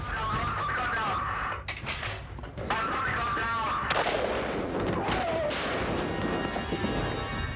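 A sniper fires during a police chase shootout, producing sharp, loud gunshot reports over a dense, noisy broadcast backdrop with a voice mixed in.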